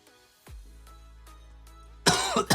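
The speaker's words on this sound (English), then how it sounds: "Still got a little bit of a cough left." One sharp, harsh cough near the end bursts out loudly after a quiet stretch with a low hum.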